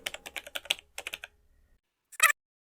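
Rapid clicking keystrokes on a computer keyboard, a close, crisp burst of about a dozen taps followed by a pause and then two final heavier key presses.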